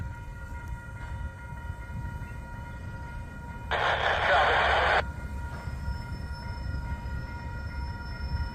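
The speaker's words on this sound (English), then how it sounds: "This Union Pacific locomotive's going real slow." A Union Pacific locomotive and its cars roll slowly past in St. Paul, a steady low rumble of wheels on rails with a brief louder burst partway through, heard from nearby.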